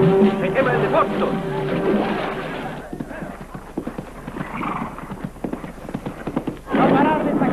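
Horses clop and whinny in a western film scene at a fire, hooves pounding in busy rhythm under shouting voices, with a loud burst of commotion near the end.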